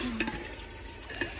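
Chicken in tempered spices is stirred and fried in a pot over a village clay stove, giving a soft sizzle under scraping spoon strokes against the pot, with a couple of sharper clinks.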